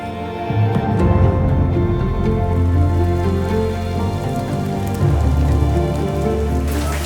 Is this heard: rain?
yes